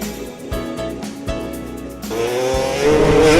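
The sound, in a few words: stunt motorcycle engine revving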